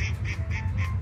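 Ducks at a water meadow fishing spot quack in a steady repeating series of about four or five calls, close and clear over low background rumble.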